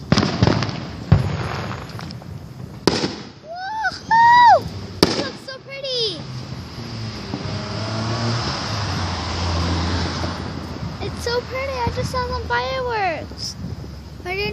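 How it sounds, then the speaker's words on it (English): Fireworks crackle and whistle across the sky, with rising whistling streaks and pops, over steady background traffic rumble and a few faint voices. "this is the sky and there's a lot of fireworks coming up"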